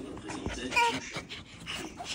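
A dog whimpers softly in short, high whines, mixed with light breathing and faint room noise.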